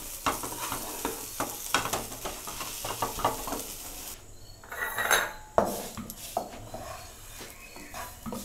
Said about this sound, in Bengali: এবার আমি মশলা মিশিয়ে দিলাম।